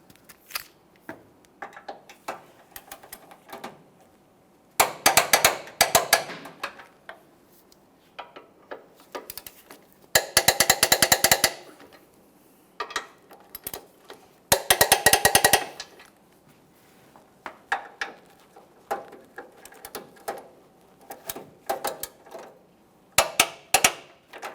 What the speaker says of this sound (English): Now that I have the outer mounting bolts snug, I'm going to torque them to 65 foot-pounds.